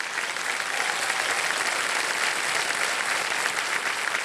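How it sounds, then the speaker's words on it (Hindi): A studio audience on the quiz show KBC breaks into steady applause, a dense, even roar of many hands clapping continuously at moderate volume with no pause. "एक बार तालियां बज जाए उनके लिए"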